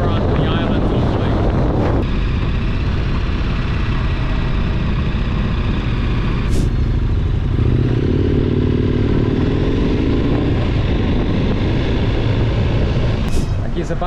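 A KTM 1290 Super Adventure R motorcycle engine drones steadily with wind rushing past the microphone, loud and constant throughout, with a voice speaking briefly over it, riding in Nicaragua.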